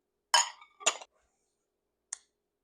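White chocolate chips are poured into a mixing bowl for black and white scones, giving two quick bursts of light clinking and rattling followed by one faint tick, close and with no talking.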